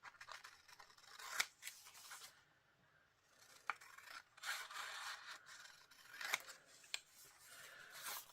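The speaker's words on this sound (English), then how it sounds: "All I did was roughly cut these up." Scissors snipping through paper craft pieces for a Christmas craft project, a close series of quiet crisp cuts and rustles at an uneven rhythm, with no voice over them.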